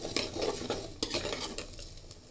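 Urad dal sautéing with asafoetida in a pan gives a soft, steady sizzle broken by sharp scrapes and clinks of a spoon stirring against the metal, close and without talk.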